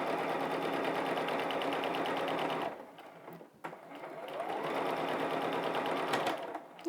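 A sewing machine stitches a fabric hem on Star Wars pajama pants, a rapid steady mechanical whir close up that stops briefly, then runs again with a short pause and restart.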